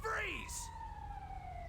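Ambulance siren in the GTA V video game, a loud rising wail that settles into a steady drawn-out tone, with a short hiss burst early on.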